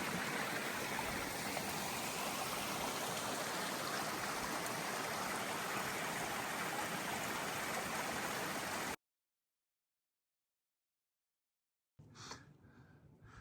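Clear mountain stream along a hiking trail flows in a loud, steady, close rush for about nine seconds, then cuts to silence before brief faint handling noise returns at the end.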